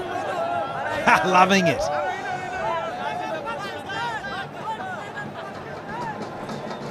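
Crowd at a 2013 Pakistan versus Sri Lanka one-day international cricket match chatting in a steady distant murmur, with a commentator talking over it throughout.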